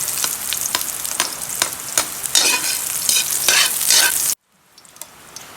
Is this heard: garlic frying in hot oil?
yes